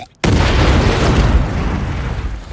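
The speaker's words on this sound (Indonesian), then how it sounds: "Ya, ranjau meledak." A landmine detonates in a film scene: a sudden, loud, deep boom after a brief quiet moment, followed by a long rumbling roar that slowly fades.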